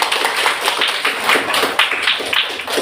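Hands clapping in a classroom during a teaching-practice session, a dense, steady patter of many small claps lasting the whole stretch at moderate loudness, with no voices over it.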